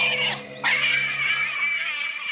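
Pigs squeal loudly and continuously at close range, one shrill scream breaking off briefly before a second sustained, piercing squeal carries on to the end.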